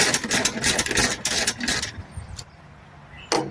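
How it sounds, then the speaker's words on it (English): Rapid whirring bursts of a power tool backing bolts out of a John Deere tractor seat, several close, loud runs, then a quieter pause and one final sharp burst. "Just get these bolts out right here."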